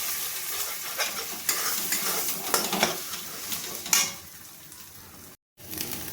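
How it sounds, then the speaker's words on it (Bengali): A salted egg fries in oil in a wok (kadai) for egg chicken chow mein, giving a steady close sizzle broken by scraping stirs and a few metallic clinks, with no talking. "এবার আমি ডিমটাকে ভেজে নেব।"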